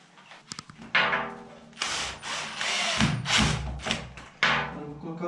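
A power screwdriver drives Phillips screws into the aluminium profile of a bathroom shower enclosure, giving several close, loud whirring bursts of varying length separated by brief pauses, with no speech.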